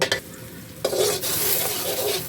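Coconut milk, about half a carton, sizzles loudly in a pan on a gas stove for a Thai red curry with pork and eggplant, with a steady bubbling hiss and a few scraping stirs near the start.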